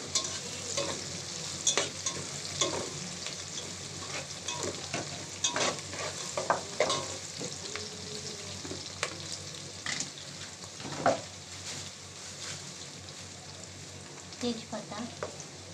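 Whole garam masala of cloves, cardamom, cinnamon, black pepper and bay leaf frying in hot oil, a steady close sizzle broken by repeated scrapes and clinks of a stirring spoon.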